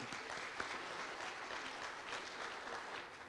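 Quiet, distant applause from a symposium audience for a governor, many hands clapping in a soft, steady patter that continues evenly throughout without voices.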